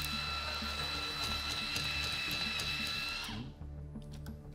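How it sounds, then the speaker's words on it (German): Food being pureed in a blender, a loud steady motorized whir with a high whine that runs for about three and a half seconds, then cuts off abruptly, leaving faint clatter and quiet. "Marius, kannst du dir einmal angucken, wie das aussieht, wenn das hier püriert wird?"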